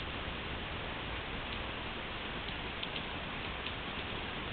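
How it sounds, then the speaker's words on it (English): Steady rain falls in a dense, even hiss of countless raindrops, with a few sharper ticks of drops striking nearby surfaces, constant and unbroken throughout. "Probably like 30 seconds of this kind of rain drops"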